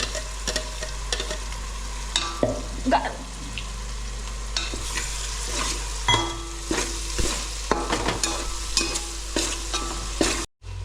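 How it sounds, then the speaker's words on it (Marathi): Masala paste being stirred into a mutton curry in a pan, with repeated scraping and clattering strokes over a continuous frying sizzle and a low steady hum, close and fairly loud throughout, cutting off briefly at the end. "मिक्सरमध्ये पेस्ट तयार केली होती ना ते मस्त मिक्स करून घ्यायचे"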